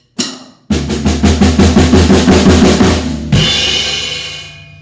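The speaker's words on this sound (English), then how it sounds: "you can try it with both hands, playing 1 measure of triplets" Drum set played with both hands in a measure of steady accented triplets, a fast run of loud close hits after an opening strike, ending in a crashing cymbal wash that rings out.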